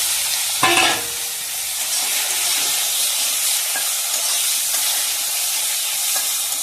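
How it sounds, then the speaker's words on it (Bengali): Eggplant and tomato fry in a pan with a steady sizzling hiss, opening with a sharp burst as they hit the hot oil, then settling into even frying with occasional stirring scrapes; no talking. "বেগুনটা আর টমেটোটা ভাজা হোক"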